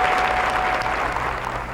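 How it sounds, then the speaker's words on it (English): Several hundred journalists applaud at a dinner, a dense, steady wash of clapping that fills the room evenly from start to finish with no voices above it. "Several hundred journalists applauded Stahl's support and understanding"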